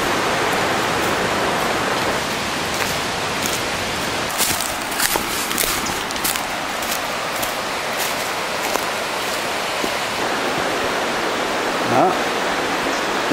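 Hazel Creek in the Great Smoky Mountains rushes steadily nearby, a dense, even wash of flowing water that fills the whole scene with no pauses.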